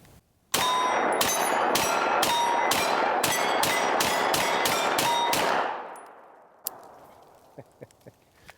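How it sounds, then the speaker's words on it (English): An HB Industries Stribog SP9A3 firearm fires a rapid string of about a dozen loud, ringing shots at an outdoor range. Echoes trail off afterward, followed by a few faint distant pops. "Shooting this thing will always make you smile."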